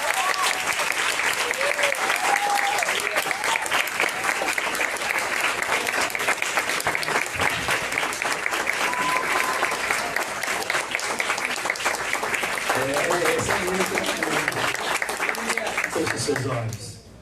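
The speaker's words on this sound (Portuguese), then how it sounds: "Aplauda o Senhor" A church congregation applauds in a sustained burst of clapping that fills the room, continuing steadily before tapering off, with voices mixed in.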